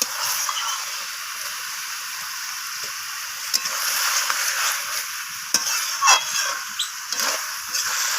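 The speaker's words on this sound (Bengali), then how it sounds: "তো সমস্ত কিছু মশলা এইভাবে নাড়াচাড়া করে কষিয়ে নিচ্ছি চিকেনের সাথে।" Chicken and spices being stirred and fried in a pan, with a steady soft sizzle broken by occasional scraping and clinking strokes of the spoon, close and fairly quiet.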